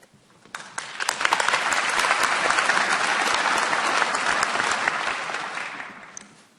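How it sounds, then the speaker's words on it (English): An audience at a university honorary degree ceremony breaks into sustained applause that swells quickly, holds loud and dense for several seconds, then fades out. "It's a lot of clapping for one small Australian."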